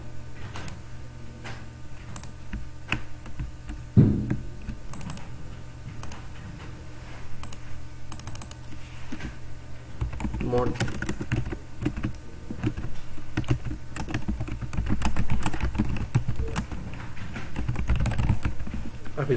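Typing on a computer keyboard while designing a logo in Adobe Illustrator: steady close key clicks throughout, with a denser, louder stretch of tapping in the second half.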